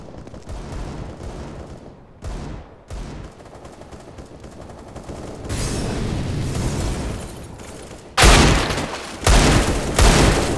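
Counter-Strike: Global Offensive match gunfire with booming bursts, capped by loud grenade-like blasts in the final seconds, after quieter scattered shots and footsteps early on.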